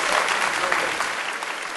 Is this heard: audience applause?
yes